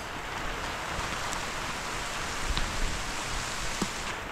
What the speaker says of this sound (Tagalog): Mas yung ulan.